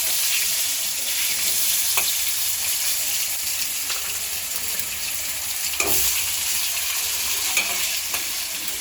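Bitter gourd fries in a pan, a steady close sizzle running throughout with occasional scraping stirs and small clinks of the utensil, no voices.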